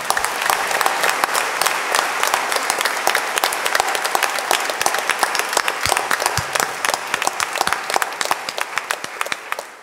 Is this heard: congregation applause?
yes